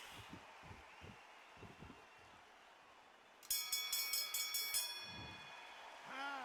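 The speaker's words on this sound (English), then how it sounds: "And there's the bell to start the round." A boxing bell clangs several times in quick succession to start a round of a boxing match, its bright ringing rising suddenly over a low crowd murmur and fading out.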